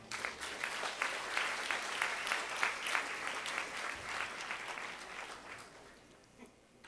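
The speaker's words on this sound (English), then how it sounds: "a last round of applause," An event audience gives a final round of applause, sustained, fairly distant clapping that swells briefly and then tapers off toward the end.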